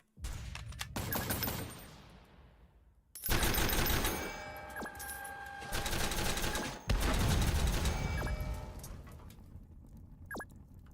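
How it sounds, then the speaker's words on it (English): Rapid automatic gunfire from the video game Noobs In Combat: Cold Front, in three or four loud sustained bursts separated by brief pauses, with a sharp single shot near the end. "Just open fire."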